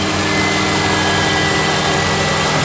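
A 2003 Subaru Outback AWD engine runs steadily, a loud, dense, unbroken roar with a constant hum, heard up close with no pauses.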